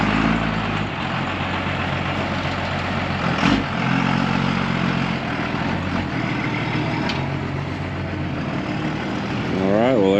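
A custom Ford F-550 truck idles nearby with a deep, steady rumble that runs throughout, the engine note swelling slightly near the end.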